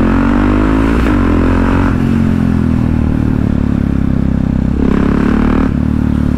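Yamaha MT-03 660 motorcycle engine droning loudly while riding, with a steady exhaust note that rises in pitch with each surge of revs and drops back, mixed with wind rush.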